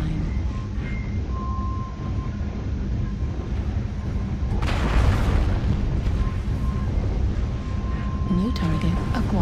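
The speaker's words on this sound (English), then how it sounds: "Artillery strike online." Heavy booming explosions from an artillery strike in a video game, rumbling and rolling in the middle of the clip under a game announcer's voice and steady background noise.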